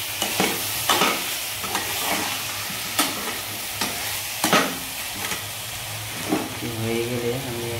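Rice goes into a pan for spicy Punjabi khichuri and is stirred, giving repeated scraping strokes over a soft, continuous sizzle at moderate volume.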